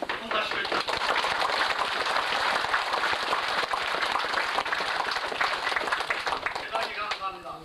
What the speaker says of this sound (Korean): 이의 없으시면 박수로 통과시켜주십시오.